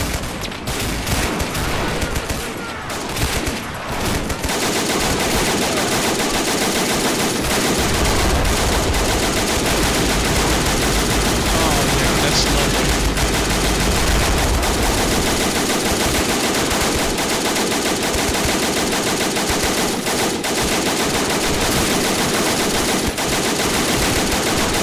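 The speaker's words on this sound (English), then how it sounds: "Taking a whole lot of fire" Sustained machine gun fire and scattered gunshots from a forest battle in the World War II strategy game Men of War: Assault Squad 2, loud and continuous with dense overlapping bursts throughout.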